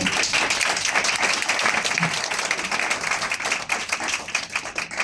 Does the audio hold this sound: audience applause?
yes